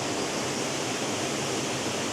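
A waterfall in Glenariff Forest Park, Northern Ireland, in spring gives a steady, full rushing roar that stays even and unbroken throughout, with no voices.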